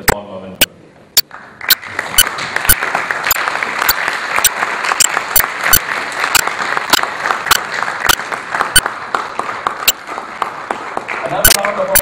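Audience applause fills a hall at a Toastmasters event, a dense, steady wash of many hands clapping with sharp louder claps standing out, continuing loudly throughout.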